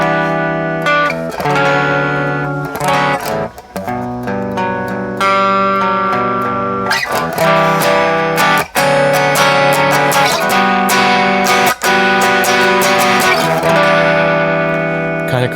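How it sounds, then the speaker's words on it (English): An overdriven electric guitar played through a free Nembrini amp simulator with cabinet simulation on. It rings out in crunchy, distorted chords with brief pauses and sharp strums, loud and close. "It's not a clean tone, it's kind of an overdriven tone"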